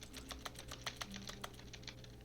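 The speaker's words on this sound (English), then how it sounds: "When I press the interact button, it makes a keyboard noise." Rapid computer keyboard clatter sounds on interacting in The Stanley Parable: Ultra Deluxe, a quick, fairly even burst of soft key taps that thins out toward the end over a steady low hum.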